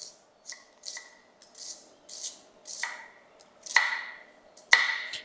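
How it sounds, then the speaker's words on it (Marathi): Knife chopping three to four large onions finely on a board, about ten crisp, close cuts in a steady rhythm, gradually growing louder, with no talking. "सगळ्यात पहिला मी 3 ते 4 मोठे कांदे बारीक असे चांगले कापून घेतो."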